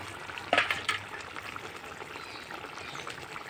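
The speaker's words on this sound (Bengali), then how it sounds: "আমি একটু জল গুলিয়ে গরম মশলাটা আমি দিয়ে দেবো।" Garam masala paste thinned with water being poured into a simmering chicken and spinach curry, a brief splashing pour followed by steady bubbling and sizzling from the pot.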